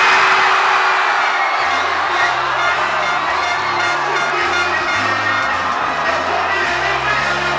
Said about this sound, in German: Doch kurz vor Schluss gab es noch einmal Grund zum Jubeln.